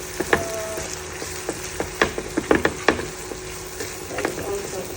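Beaten egg sizzling as it pours into a hot pan for homemade fried rice, a steady frying hiss broken by sharp spatula clacks and scrapes against the pan, close and moderately loud.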